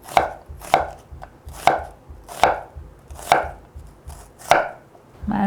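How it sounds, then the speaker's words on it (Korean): A knife slices a quarter onion thinly on a cutting board, about seven crisp, evenly spaced chops close up with quiet gaps between them and no talking. "양파 4분의 1개 가늘게 채 썰어주세요."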